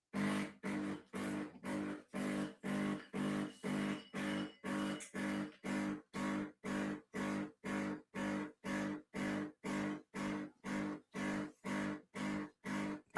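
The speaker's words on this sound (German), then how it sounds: "ich habe die Kaffeemaschine gerade angeschalten" Coffee machine running with a steady, regular pumping pulse, about two strokes per second, loud and close throughout with no talking.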